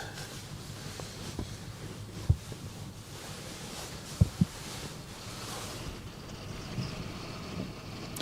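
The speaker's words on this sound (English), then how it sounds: "the wind has really picked up now" Strong wind at the Westerschelde shore during ship spotting: steady, broadband wind rush buffets the microphone throughout. A few sharp low thumps stand out, with no one talking.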